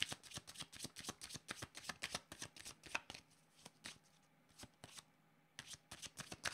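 Tarot cards are riffled and shuffled in quick, crisp bursts of flicking and slapping, with a short quieter pause midway before the shuffling resumes, close up and alone.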